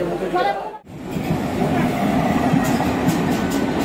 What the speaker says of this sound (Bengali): 8টা বেজে 3 মিনিট ট্রেন ঢুকলো দেউলটি স্টেশন